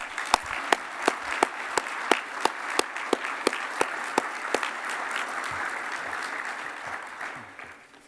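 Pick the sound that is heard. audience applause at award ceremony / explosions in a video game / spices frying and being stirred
audience applause at award ceremony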